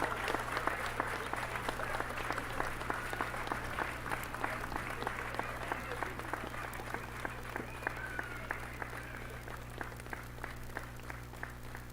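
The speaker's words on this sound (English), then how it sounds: "It was a long ass clap." Long steady round of audience applause fills a live local news broadcast, dense clapping holding at an even level throughout with a faint hum underneath.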